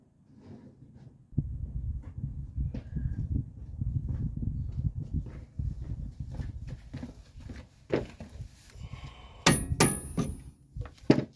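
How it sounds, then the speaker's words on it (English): Repeated dull thuds from a soft-blow mallet tapping a part into place during a car's front suspension reassembly, irregular strikes close by, a few sharper knocks near the end. "Need my soft blow hammer."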